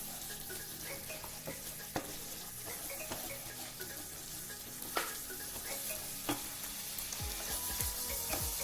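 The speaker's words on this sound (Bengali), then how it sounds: "এই কসুরি মেথিটা দিয়ে এবার আমি আরেকটু ভালো করে কষবো যতক্ষণ না সুন্দর একটা গন্ধ বেরোয়" Kasuri methi fries in a pan for methi malai paneer, with a dense continuous sizzle under irregular clinks and scrapes of stirring and a faint watery rush, and nobody speaks.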